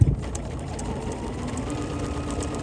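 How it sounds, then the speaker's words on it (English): Embroidery sewing machine steadily running while over sewing a small feathery stitch: a continuous fast mechanical whir and needle clatter, close and even throughout, no talking. "I'm going to be over sewing this little feathery stitch a little bit"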